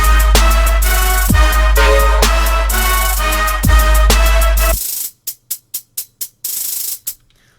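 Programmed drum pattern in Addictive Drums recreating a track: heavy booming kicks and dense crisp hits repeat in a steady bar-long loop, then give way to a string of short, sharp stabs, loud and close.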